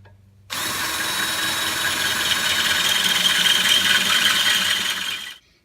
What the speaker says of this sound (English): I was able to drill this out